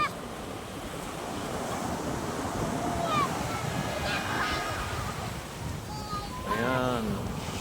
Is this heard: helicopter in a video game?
no